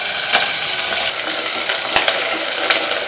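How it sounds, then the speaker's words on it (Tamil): Whole garlic cloves and peeled shallots sizzle and crackle steadily in hot oil in a Tamil home kitchen, a continuous close fry with a few light stirring scrapes and no talking. "ஒரு 6 பல்லு பூண்டு, முழு பூண்டு, சின்ன வெங்காயம் உரித்து வச்சுருக்கேன், அதை சேர்த்துக்கிறேன்"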